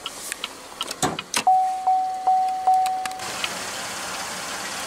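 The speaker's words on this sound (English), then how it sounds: "Automatic driver's side window." On a 2015 Buick Lacrosse, a few clicks lead into the automatic driver's side power window motor, which whirs in several rising strokes with short pauses before stopping, heard close inside the car.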